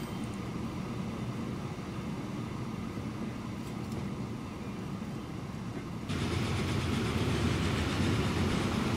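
A freight train rolls by in the Transport Fever rail simulation, a steady low rumble that steps up louder and brighter partway through as the train nears, with no speech.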